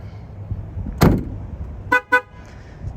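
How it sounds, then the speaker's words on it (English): A 2021 Ford Bronco two-door Badlands sounds its horn as the door shuts with the key on: a door thud, then two short, loud honks close by. "That horn's incredibly loud, and it comes right out of the front"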